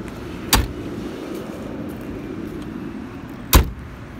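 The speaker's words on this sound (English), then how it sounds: "So we're gonna walk around a little bit and just close some doors." Doors of a 1987 Chevrolet Caprice Classic LS Brougham shut twice with solid, heavy thuds spaced about three seconds apart, set against a steady outdoor rumble.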